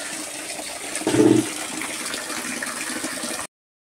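Water runs steadily from a tap as bottles are washed and filled, a continuous rushing wash with a brief louder surge partway through, no voices.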